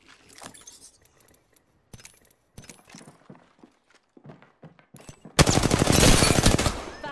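Gunfire in Apex Legends: scattered sharp shots and clicks over the first five seconds, then a loud, rapid sustained burst of automatic fire closing out the clip.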